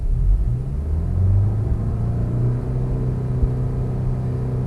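A VW MK6 2.0 TSI engine with a newly installed oil pump, heard from close by as a low, steady rumble that swells briefly as it is revved, then settles back to a smooth idle-like drone.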